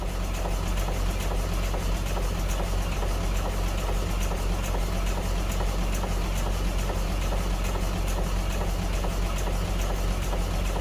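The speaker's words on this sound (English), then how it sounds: "This is our historic engine from 1929." A 1929 boat engine runs steadily and loudly, a continuous low rumbling drone with a faint mechanical knock throughout, close by and with no talking.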